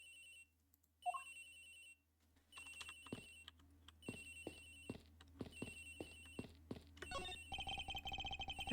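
A telephone rings on a plane in the Ace Attorney Investigations video game, sounding as a repeated electronic ring in even bursts that turns into a faster, continuous trill near the end, with no talk over it.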